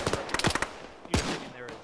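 Gunfire from an Arma firefight in a ShackTac session: a rapid burst of several close shots, then a louder single crack with a ringing tail and a faint distant report.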